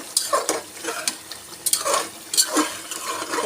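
Beef fries and sizzles in a pan while a spoon stirs it, making several close scraping strokes in uneven rhythm over a soft background sizzle.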